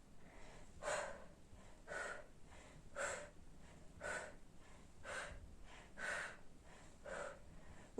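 Forceful exhalations during a Pilates exercise, seven or eight breathy puffs at roughly one-second intervals, close and clear with no talk.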